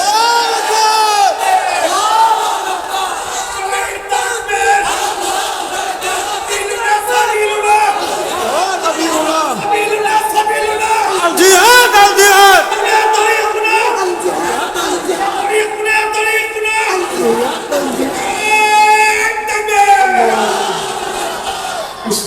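A large crowd at a rally chants a slogan together, loud and continuous, with voices rising and falling in long shouted phrases and a dense roar of overlapping voices throughout.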